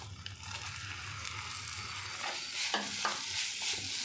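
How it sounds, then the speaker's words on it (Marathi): Grated coconut being stirred into melted jaggery in a pan for mango rava modak filling, giving a steady soft sizzle with scraping spatula strokes growing more distinct toward the end, close and alone without talk. "गूळ वितळवून आपण खोबरं टाकलं तर ते छान मिक्स होतं आणि लवकर होतो."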